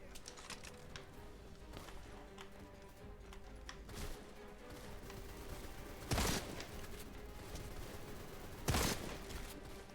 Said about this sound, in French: Je suis trop fort avec le fusil de sniper.